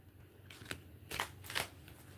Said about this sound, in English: Please choose your set while I'm shuffling.